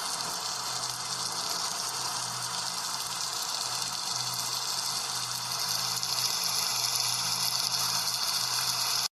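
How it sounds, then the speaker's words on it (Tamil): Rainwater floods into a village house in an animated scene during heavy rain. A steady, even rushing hiss of water continues without a break and cuts off abruptly at the end, with no talk. "மழை தண்ணி பூரா வீட்டுக்குள்ள வருது"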